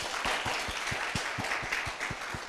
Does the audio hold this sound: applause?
yes